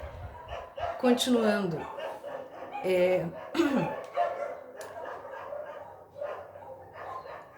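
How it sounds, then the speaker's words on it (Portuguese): Dogs bark out on a residential street, a few loud yapping barks and yelps near the start, while someone speaks Portuguese over and between them. "Os cães aqui na minha rua hoje estão infernais."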